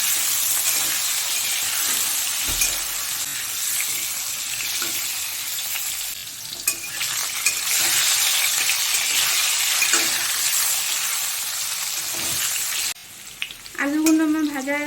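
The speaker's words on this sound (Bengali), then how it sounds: "একটু নুন দিয়ে দেবো আর সামান্য একটু হলুদ দিয়ে আলুগুলোকে ভেজে নেব" Potatoes fry with salt and turmeric in hot oil for a koi fish curry, giving a loud, steady sizzle with stirring scrapes throughout; near the end the hiss drops away and a brief voice-like tonal sound is heard.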